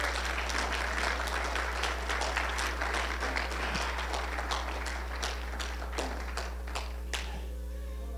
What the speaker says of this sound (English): Give him the greatest hand clap of praise you can.